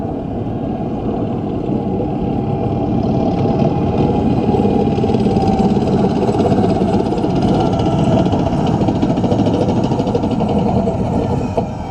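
Gas turbine engine of an Abrams tank, rated at 1,500 horsepower, runs in a steady loud drone with a faint high whine on top, holding level for the whole stretch with no breaks.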